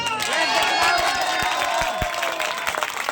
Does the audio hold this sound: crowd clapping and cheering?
yes